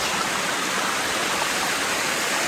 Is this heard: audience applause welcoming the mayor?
no